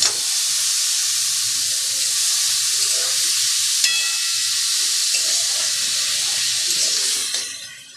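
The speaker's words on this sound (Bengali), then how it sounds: "এরপরে জল ঝরানো চাল কুমড়োটা আমি এর মধ্যে দিয়ে দেব।" Drained ash gourd pieces hitting a hot pan in a Bengali hilsa-head recipe, giving a loud, steady frying sizzle and hiss that holds for several seconds and then fades out at the end, with no talking.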